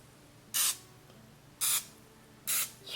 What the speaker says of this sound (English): We need cooking spray